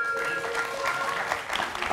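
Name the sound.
audience applause for the Zouglou singer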